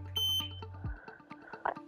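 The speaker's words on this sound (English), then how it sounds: "hold air and power mode until you hear one beep" A GX-3R gas detector sounds a loud, close electronic beep, followed by a lower tonal hum and a short burst of clicks and chirps.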